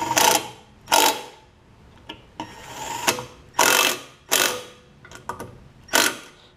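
Hand ratchet tightening bolts on the air filter housing of a Lincoln Ranger 8 welder generator with a Kohler Command V-twin engine, heard as about eight separate rapid clicking bursts with short pauses between, close and fairly loud.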